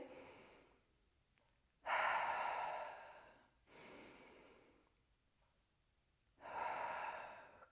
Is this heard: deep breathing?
yes